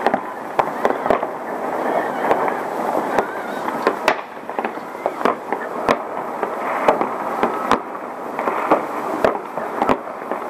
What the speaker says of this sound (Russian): весь город в фейерверках.